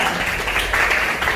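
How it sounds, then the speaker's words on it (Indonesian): An audience in a school classroom claps for a student, a brief, close burst of many hands applauding loudly for just over a second with no talk. "Tepuk tangan buat Anissa."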